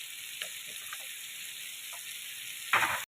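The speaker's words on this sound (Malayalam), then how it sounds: "അപ്പം നമ്മുടെ മസാലയിൽ നല്ലോണം മൂത്ത് വന്നിട്ടുണ്ട്" A spice masala of Kashmiri chilli, black pepper powder and coriander powder fries in a pan for chicken curry, making a steady close sizzle with faint clicks and a louder stirring burst near the end.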